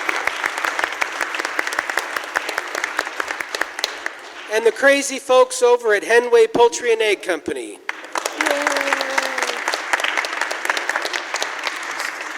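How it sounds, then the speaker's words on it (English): Audience applause for the sponsors of a live radio-theater show, a dense wash of many hands clapping that pauses while someone speaks over the room, then swells again and carries on steadily to the end. "We'd like to give another round of applause for our good friends at Idaho Central Credit Union."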